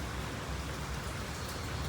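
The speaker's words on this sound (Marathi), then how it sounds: "जोरात पाऊस चालू आहे" Heavy rain pours in a dense, even hiss that fills the whole stretch, loud and unbroken, with no voices.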